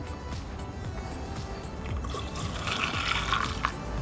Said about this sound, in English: We're gonna add coolant now.